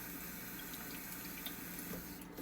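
Hot water runs steadily from a kitchen tap onto a knife being rinsed, a continuous, moderately quiet hiss and splash with faint drips and no voices.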